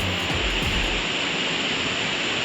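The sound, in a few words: waterfall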